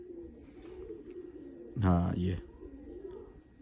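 Washi pigeons coo in a short, loud burst midway, a rich low warbling call close to the microphone, set against soft background chatter and a brief spoken word.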